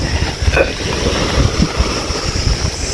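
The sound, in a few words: sea waves, slightly rough sea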